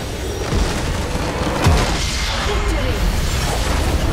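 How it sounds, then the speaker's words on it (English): An inhibitor structure is destroyed in League of Legends, giving a heavy booming crash with a deep low-end thud and crumbling debris over a dense wash of game effects and background noise. "Your team has destroyed an inhibitor."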